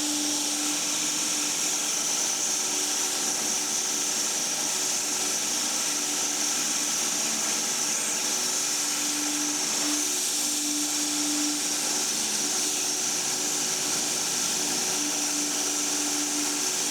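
Steady, continuous whine of a saw ripping a long quarter-sawn board off a log, holding one even tone for the whole stretch with no pauses and no voices.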